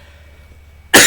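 A single sharp cough bursts out loudly at the end from someone with a cold and runny nose, following a stretch of quiet room hum.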